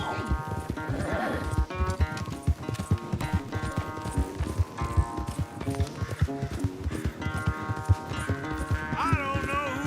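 Rapid rhythmic hoofbeats of a horse galloping during a race in Red Dead Redemption 2, loud and continuous, with occasional neighs, game music and voices talking over the pounding.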